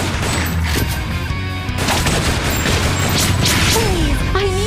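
Sustained loud gunfire and crashing explosions from the arcade shooter Time Crisis 5, a dense continuous barrage with booming impacts and a rising electronic tone toward the end.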